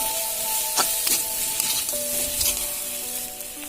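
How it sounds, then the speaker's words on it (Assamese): Potatoes sizzle steadily in a hot oiled pan for a ginger leaf dish, with a few soft clicks of stirring over the constant frying hiss; no one speaks. "আলুখিনি দি ভালকৈ ভাজি ল'ম"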